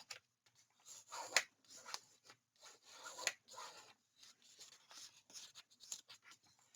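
Folded paper being burnished by hand for a craft album, a few soft rubbing strokes with brief scraping bursts, close and quiet, no talking.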